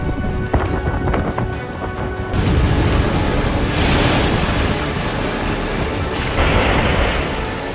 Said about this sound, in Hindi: बहुत भयावह बारिश है।